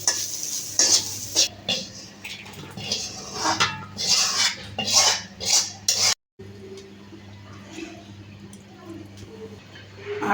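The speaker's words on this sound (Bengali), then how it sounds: "এই যে আমার মাছের ডিম আমি সুন্দর করে এই যে ভাজি করে দিচ্ছি" Big fish roe frying in a pan while being stirred, with rhythmic scraping and clattering of a metal spatula over a soft sizzle, brief pauses between strokes, recorded close with no speech.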